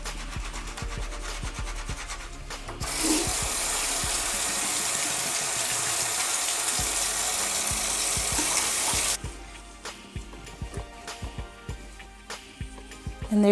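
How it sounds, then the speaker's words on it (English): Makeup brushes rub against a bar of soap with water, a steady wet scrubbing hiss lasting about six seconds, with softer scratchy handling sounds before and after. "I just go ahead and rub the brushes inside of the soap"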